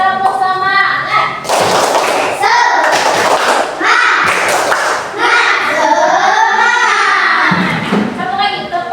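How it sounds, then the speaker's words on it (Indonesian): A school class of children performs the rhythmic 'tepuk semangat' clapping chant at the start of a lesson, with sharp group claps punctuating loud, sing-song chanted voices throughout. "kita mulai tepuk semangat"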